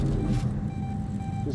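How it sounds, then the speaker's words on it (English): A constant electronic beeping tone from the video game The Outer Worlds 2 holds steady throughout, mixed with other game sounds and a faint voice. "This constant beeping."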